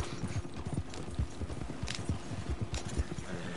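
Horse hooves in the video game Red Dead Redemption 2 Online clip-clop in a quick, steady rhythm, fairly close, with a couple of short bursts of noise between the hoofbeats.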